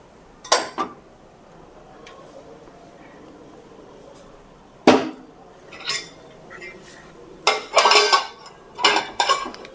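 Metal pots, a pressure cooker and utensils clatter and clank in a home kitchen as dal and rice are set up for cooking, sharp separate knocks and scrapes spread across the stretch with quiet gaps between.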